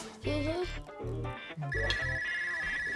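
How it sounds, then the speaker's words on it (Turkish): A telephone ringing indoors in a steady electronic tone that enters partway through, following a short melodic phrase, with voices around it. "Baba telefon çalıyor açayım mı?"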